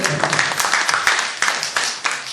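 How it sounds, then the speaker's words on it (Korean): A church congregation at a Korean-language service claps together, a burst of steady, fairly loud mixed applause filling the room. "박수 한번 쳐주세요."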